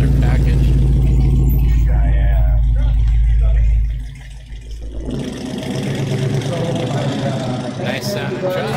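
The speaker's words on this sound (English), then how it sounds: "Nice sounding truck." A loud, close truck engine at a car show rumbles heavily, then drops off and settles back into a steady throaty idle, with a voice talking over the sound.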